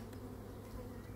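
Honeybees drone steadily at an open beehive from a colony still inclined to swarm, a continuous low buzzing hum that holds level and fairly close throughout with no talk over it.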